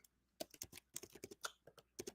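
Rapid keystrokes on a computer keyboard, quiet and close, with uneven bursts of clicking taps and no talking.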